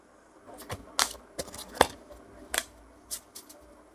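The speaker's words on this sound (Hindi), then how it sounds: "One more time shuffle." Tarot cards shuffled by hand in a series of sharp, crisp flicks and slaps, spaced irregularly and heard close, with a faint murmur underneath.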